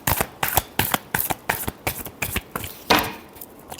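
Tarot cards being shuffled by hand in a steady run of about a dozen crisp riffling bursts, close and fairly loud, ending in one longer ruffle with no voice.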